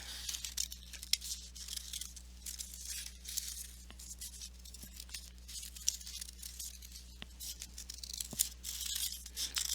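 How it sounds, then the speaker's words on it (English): Scissors snip through folded paper to cut out shapes, a quick irregular series of close, crisp crunching cuts and soft paper rustles against a quiet hum. "keeping my paper folded, I am going to cut out my shapes."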